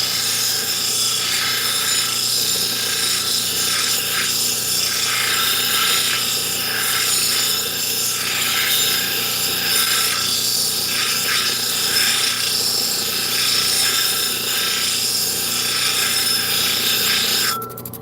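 A stone, such as turquoise or jasper, being worked on an 80 grit wheel gives a steady, loud grinding rasp that runs without a break and swells and eases in slow pulses.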